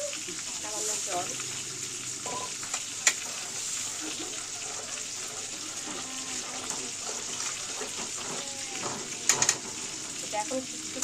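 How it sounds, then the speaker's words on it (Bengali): Potatoes and rui fish with a little water sautéing in a pan, a soft continuous sizzle and bubbling with occasional light utensil clinks, fairly quiet. "এটা এখন একটু কষানোর জন্য আমি এটাকে দিব, একটু কষুক"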